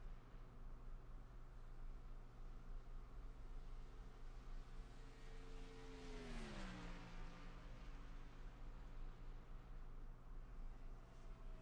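An ARCA Series race car engine on a sim racing qualifying lap at Michigan makes a quiet, steady drone, then swells and drops in pitch as it passes midway through, over constant background hiss.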